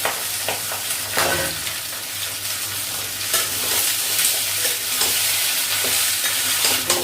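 Potatoes and ridge gourd frying in a pan for alu jhinge posto, a loud, steady sizzle with occasional stirring scrapes, close by and with no talking.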